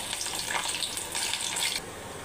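Steady hiss and crackle of saag pakoras made from noni greens frying in hot oil, a dense sizzle that holds for about two seconds, then drops back to a quieter simmer.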